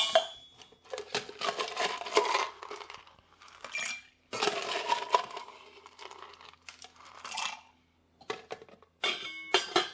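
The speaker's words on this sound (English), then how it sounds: "Give it a little ice." Ice cubes going into a mixing glass for a Waldorf cocktail after bitters: close, clattering clinks and rattles in several uneven bursts with brief pauses between, no voices.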